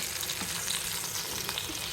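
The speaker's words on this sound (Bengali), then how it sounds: "মাছ ভাজার তেলটা দিয়ে দিচ্ছি কড়াইতে, তেল গরম হয়ে গেছে।" Fish fries in hot oil in a wok, giving a dense, steady sizzle that stays loud and unbroken throughout, with no talking.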